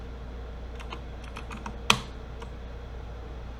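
Keystrokes on a computer keyboard during 3D modeling software work: a short run of soft, quick taps, then one louder clack, followed by a final light tap against a quiet room hum.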